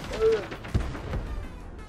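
A barrel explodes in the shooter game Quantum League: one sharp, low burst near the middle, with a voice talking around it.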